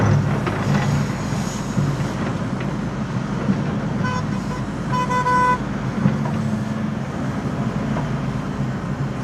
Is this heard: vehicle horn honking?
yes